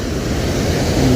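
Rushing water of a small Pahadi mountain stream (gadhera) flowing close by in a hillside village, a steady broadband roar with a faint wind-like hiss, continuous and loud throughout.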